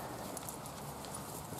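Horses walking at the Irish National Stud, their hooves making a faint, steady clip-clop against a constant outdoor background hiss, with no talk heard.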